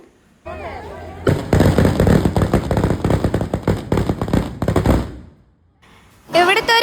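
A loud, rapid string of firecracker explosions crackling for several seconds as a temple ritual offering in Kerala, preceded and followed by people talking nearby.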